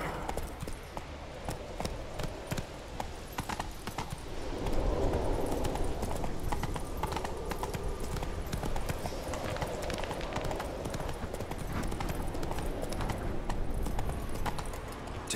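The horse Roach's hooves clip-clop in a steady, continuous gallop in The Witcher 3 game. The hoofbeats are close and run throughout under a low rumbling background.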